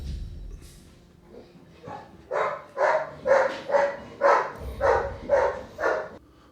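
A dog barks repeatedly in the video game Tainted Grail, eight or so evenly spaced, fairly loud barks in a steady rhythm after a few softer yips, with no talk over them.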